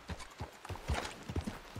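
Horse hooves clip-clop on a road in the video game Red Dead Redemption II, a steady walking rhythm with several clear hoofbeats close by and a faint background hum.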